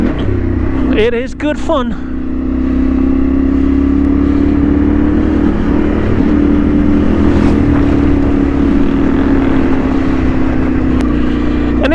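An off-road trail motorcycle's engine drones loudly and steadily with a rising rev, while someone speaks briefly over it.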